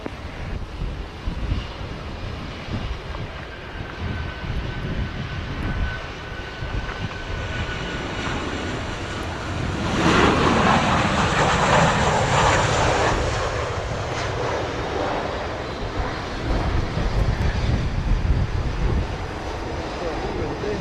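A passenger airliner lands at Montego Bay airport in Jamaica, its engine roar swelling loudly midway and holding steady against wind buffeting the microphone, with radio voices heard intermittently.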